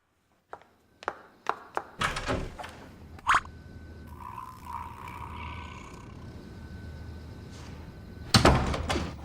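A door banged and thumped repeatedly in a dubbed Chinese drama scene: a run of sharp knocks and thuds at the start, then a low rumbling stretch and a final heavy bang, fairly close and with no talk over it.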